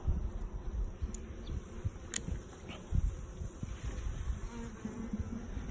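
Honey bees buzz steadily inside an open hive, a dense close drone with a few louder individual bees passing near, and no voices.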